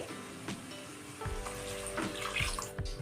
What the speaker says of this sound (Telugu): ఇప్పుడు 4 గ్లాసులు వాటర్ యాడ్ చేసుకోవాలి